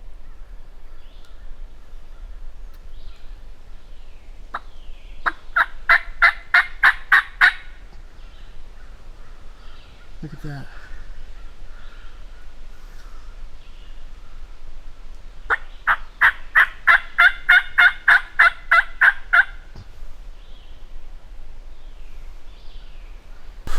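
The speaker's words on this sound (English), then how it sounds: "There's another bird gobbling in that field." A wild turkey gobbles in an open field on Alabama public land, two rapid rattling bursts carrying clearly over a quiet outdoor background, with someone briefly speaking between them.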